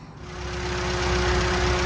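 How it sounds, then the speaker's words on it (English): A car engine fitted with a new higher-power ignition system runs at a steady idle, a loud close even rumble with a fixed hum that swells slightly as it settles. "Okay, so engine's back running."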